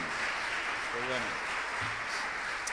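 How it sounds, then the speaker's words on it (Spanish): A church congregation gives sustained applause for viewers watching from home, heard as a steady, moderately distant clapping wash with a few voices rising briefly over it. "¿Por qué no le mandamos un fuerte aplauso a todos los hermanos que nos están viendo y escuchando en este momento?"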